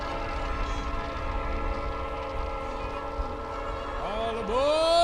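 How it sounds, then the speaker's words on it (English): A train bears down with a steady rumble and sustained horn tones, the horn pitch bending and the roar swelling louder as it nears. "His gaze only broke by the sound of a train fast approaching."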